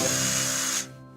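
A cartoon power drill whirs loudly at a steady high pitch for under a second, then cuts off abruptly, leaving a faint hum.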